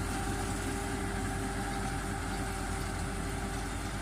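Two tractors, a New Holland 3630 and a Swaraj 855, run together under load with a harrow, making a continuous dense engine drone with a steady tonal hum, loud and unbroken throughout.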